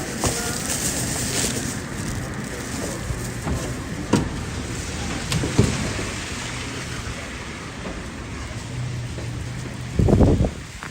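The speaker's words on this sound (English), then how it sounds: "freezing rain" Freezing rain in Indiana falls as a steady broadband hiss with some wind rumble, plus occasional knocks and brief bursts of louder noise.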